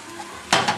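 Mushy refried beans mixed in a pan with a utensil, giving a short wet scrape and stir that starts halfway through, with a second softer stroke after it. Faint kitchen background comes before.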